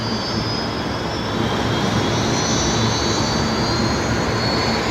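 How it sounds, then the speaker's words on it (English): Fokker airliner engine starting up at Brisbane Airport: a steady, close roar with a high thin whine laid over it, holding even and loud throughout with no voices. "Is that a Fokker I can hear?"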